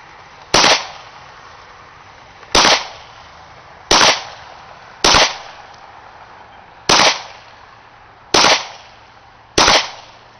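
Gun firing seven sharp, loud single shots spaced one to two seconds apart, each a crisp crack with a short decay over a quiet background.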